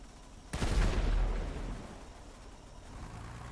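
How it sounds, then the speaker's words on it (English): A single heavy boom from a vehicle-mounted cannon in GTA 5, the gunrunning APC, with a sharp loud blast that rolls off into a long fading rumble. "But you have to turn the cannon on. You can't drive and have the cannon on."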